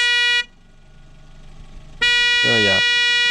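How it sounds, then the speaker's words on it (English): A small, lightweight Xinliya car horn bought from Amazon blares in two loud, steady bursts close to the microphone, with a brief voice between them. "looks more like your average car, run-of-the-mill horn."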